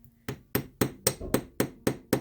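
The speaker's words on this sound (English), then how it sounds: "we're going to take our ball peen hammer and just hold this down on the work surface" A ball peen hammer strikes wire held on a work surface for jewelry texturing, giving nine sharp, evenly spaced metallic taps in steady rhythm, close and clear with no voices.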